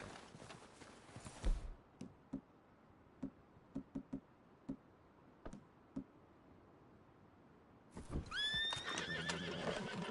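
Horses whinny and snort in Red Dead Redemption 2, with a burst of neighing at the start, then scattered hoof knocks and clops, and a loud, shrill whinny near the end over a steady outdoor bed.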